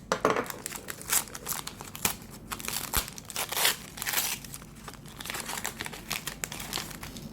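A parcel sent from England being unwrapped: close, crinkly rustling and tearing of packaging in irregular bursts, fairly quiet, with no talking.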